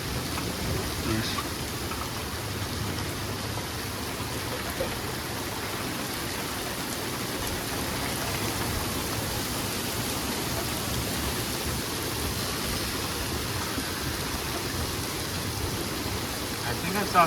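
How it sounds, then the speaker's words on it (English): Heavy rain pours down steadily in a passing thunderstorm, a dense, even wash of noise that holds constant for the whole stretch with no clear thunder. "That's a big downpour."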